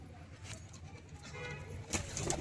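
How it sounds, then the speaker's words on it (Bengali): Teddy pigeons give low, soft coos, scattered and faint, with a slightly louder cluster near the end over a quiet hum. "দেখো পায়রাগুলো, দেখো টেডিগুলো"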